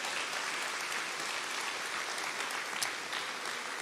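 A church congregation applauds steadily, a dense continuous wash of many hands clapping that holds evenly throughout with no talking over it.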